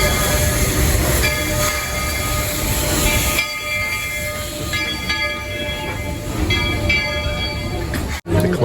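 A Magic Kingdom railroad train rumbles steadily nearby, with a sustained tonal hum of the train over the running noise and a brief sharp drop near the end.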